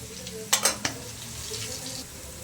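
Green chillies and turmeric fry in a pan, a soft continuous sizzle broken by a quick cluster of three sharp utensil clanks against the metal.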